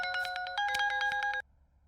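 Electronic phone ringtone sounding as a call is placed, a rapid trilling melodic pattern in two bursts, loud and close, then cutting off abruptly with no talk.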